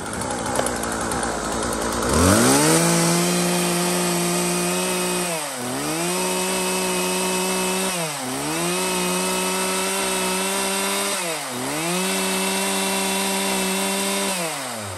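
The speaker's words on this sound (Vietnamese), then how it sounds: "cửa hàng chúng em sẽ test nổ con này cho các bác nghe qua tiếng máy luôn" A Husqvarna 136 chainsaw engine is started and then runs loud and close, droning steadily with several revs that dip and climb back up, no one speaking.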